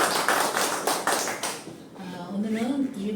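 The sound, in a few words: audience applause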